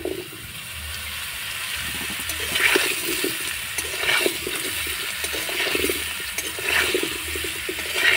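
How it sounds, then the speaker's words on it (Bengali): Raw mango pieces with turmeric and salt are stirred and lightly fried in oil, giving a continuous close sizzling hiss that surges with each stir. "এইভাবে একটু নাড়াচাড়া করে আমটাকে হালকা করে ভেজে নেব"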